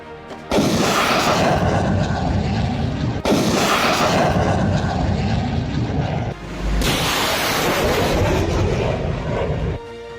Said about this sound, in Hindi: ये गर्जना है देश की शक्ति की, देश की तोपों की